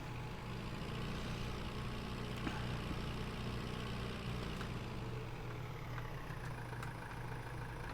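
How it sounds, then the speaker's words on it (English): A small tractor engine idles in Farming Simulator 19, a steady low rumble with an even mechanical hum that holds at a constant level throughout, with a few faint clicks over it. "This is a hell of a little tractor."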